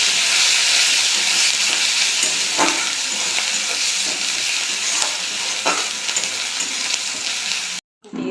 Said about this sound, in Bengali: দিয়ে দেবো একটু কালো জিরে, দিয়ে দেবো পেঁয়াজ, কেটে করে রাখা পেঁয়াজ